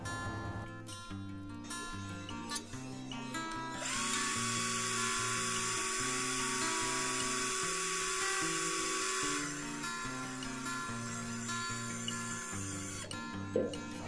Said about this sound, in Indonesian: sekarang kita akan uji RPM di percepatan nomor 1 dan modenya mode drilling